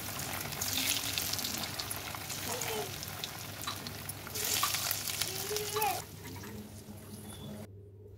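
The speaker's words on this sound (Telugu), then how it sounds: "మిక్స్ చేసుకున్న ముక్కలన్నీ ఇలా డీప్ ఫ్రై చేసుకున్నామండి" Fish pakoda pieces deep frying in hot oil over a low flame, a steady bubbling sizzle with louder bursts of crackle and occasional stirring, heard close up with soft talk in places.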